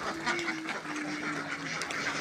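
Khaki Campbell ducks on a farm, a few close nasal quacks in quick succession over a soft background of the flock.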